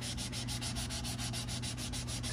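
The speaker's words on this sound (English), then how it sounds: "Just give it a little sand to take some of that shine off." Steady rhythmic scraping of a handheld sanding block rubbing back and forth on a plastic safety cone, close and continuous with no talking.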